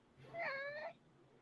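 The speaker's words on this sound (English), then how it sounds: "my cat says hi, apparently" A house cat gives a single clear, drawn-out meow, fairly faint and close, against a quiet room background.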